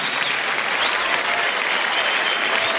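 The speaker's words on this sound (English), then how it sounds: "Give a round of applause." Sustained applause from a blues concert audience in 1991, a dense even wash of clapping filling the whole moment with no voices on top.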